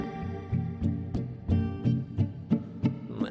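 A poorly played guitar barre chord is strummed over and over, about ten even strokes in a steady rhythm, close and moderately quiet, each strum ringing briefly before the next.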